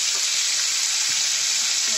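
Pork sizzles in very hot oil, a loud, dense, continuous crackling hiss that fills the whole moment without a break.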